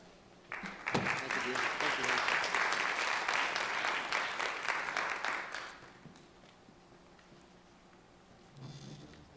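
A seminar audience at a financial planning event claps to welcome the speaker, a burst of crowded clapping that swells quickly, stays fairly strong for about five seconds, then drops off into quiet room tone before a voice starts.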